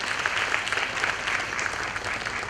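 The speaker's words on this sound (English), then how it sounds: "So a good round of applause to you." Sustained applause from an audience at an International Women's Day 2022 event after a violin recital, a dense even patter of many hands clapping throughout.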